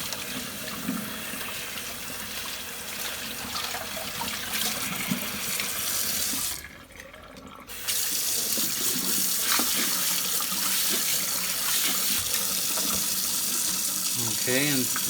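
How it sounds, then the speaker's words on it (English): Cold tap water runs steadily into a sink while a vacuum cleaner bag from a Hoover Junior Dirtsearcher is rinsed, a continuous close gushing stream that drops out briefly midway before resuming at full strength. "Use cold water to rinse the bag."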